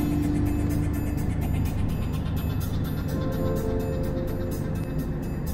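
A car engine drones steadily while climbing uphill in a long road tunnel on the way to Kristiansund, with the driver shifting down; a continuous, fairly loud cabin hum with no talking.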